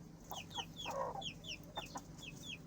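Hens and a small chicken cluck softly in quick, repeated chirpy notes, fairly faint over a quiet backyard hum.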